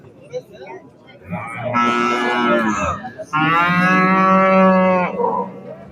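A cow at the Beshariq livestock market lets out two long, loud moos close by, the second one fuller and steadier, with a faint bustle of the market around them.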